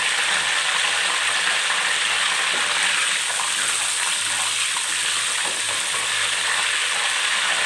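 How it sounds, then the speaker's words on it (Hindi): Whole garam masala spices sizzle in a pan of oil while the gravy for beef kofta gets started, a continuous close hiss and crackle with light stirring, no voices. "हमने एक पैन लिया है और इसके अंदर हम मिक्स मसाले गरम साबुत ये डाल लेंगे।"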